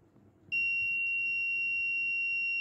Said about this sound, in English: So now I'm going to test the buzzer.